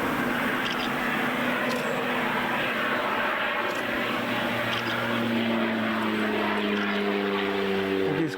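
A propeller aircraft comes in to land at an island, its steady engine drone loud and continuous throughout, with a rising tonal hum building over the second half.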